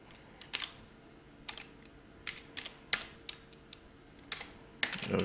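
Keys clack in short irregular bursts as a folder name is typed on a computer keyboard, fairly quiet and close, with brief pauses between groups of strokes.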